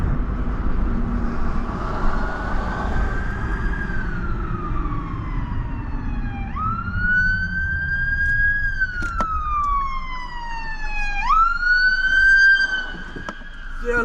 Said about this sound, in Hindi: इधर कोई आ रही है एम्बुलेंस